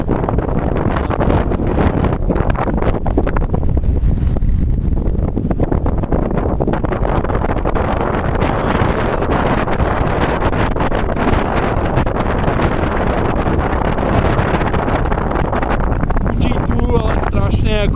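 Strong, constant wind buffets the microphone on a winter mountain hike to Vápeč, a loud roar that never lets up for the whole stretch, with a voice speaking briefly under it.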